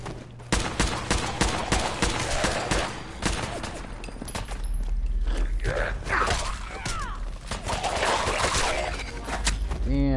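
Gunshots crack in the video game Fallout 4, a loud scattered series of sharp reports mixed with mechanical clatter and a brief voiced gasp.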